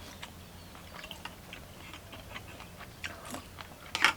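Someone chews spicy chicken feet in a rich, thick soup close to the microphone, producing soft wet clicks and small crunches at an uneven pace, with a sharper bite near the end.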